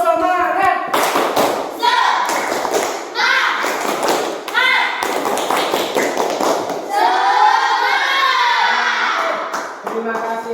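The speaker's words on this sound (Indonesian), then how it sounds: "Tepuk semangat." A school class in Blitar performs the rhythmic 'tepuk semangat' spirit clap, bursts of loud hand claps and thumps in a repeating pattern mixed with children chanting and shouting in unison, close and energetic.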